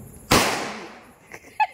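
A single firecracker bursts during Vishu celebrations at a Kerala family home, a sharp loud crack with a ringing decay, followed by a couple of faint small sounds.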